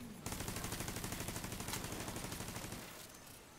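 A gun in the video game The Division fires a continuous rapid automatic burst at a turret, loud and close, for a couple of seconds before cutting off.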